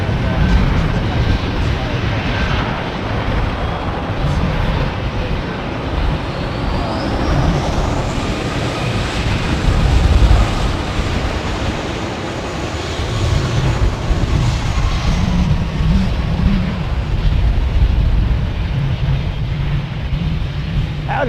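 A DC-10 airliner departing from runway 09, a loud, broad jet roar building and holding for many seconds, with a faint rising whine and voices talking over it.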